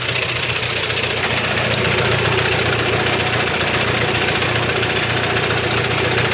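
A 1.9 litre diesel engine swapped into a SuperPony runs steadily on its first start, a loud, close, continuous rattling idle with knocking throughout and no talk.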